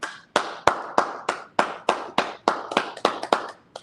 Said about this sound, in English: Go ahead and clap it up.